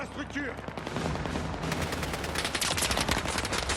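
Rapid gunfire and booming explosions from the Battlefield 6 solo campaign on Gibraltar form a dense, continuous barrage that grows louder toward the end, with a voice briefly underneath.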